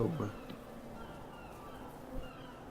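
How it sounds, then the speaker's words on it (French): Faint, steady insect buzzing, like bees hovering nearby, with a few soft thumps and distant outdoor ambience. "J'entends les abeilles, mais je les vois pas."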